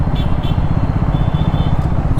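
A Triumph Scrambler 400X motorcycle engine idling in third gear with the clutch held in, a steady, loud, close low thrum with no talking.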